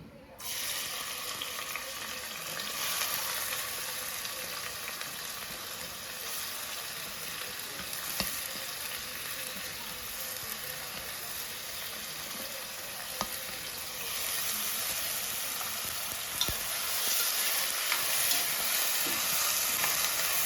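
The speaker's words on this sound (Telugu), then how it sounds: "ఉల్లిపాయలు ఆగాలి, ఎర్రగా వేయిపోవాలి" Onions with coriander, cumin and masala powders frying in a pan, a continuous close sizzle with faint stirring scrapes and occasional sharp ticks throughout.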